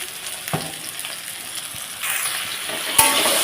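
Taro stolons frying in a pan while salt is stirred through, a low steady sizzle with occasional spoon knocks and a louder hiss rising toward the end, close by, no voices.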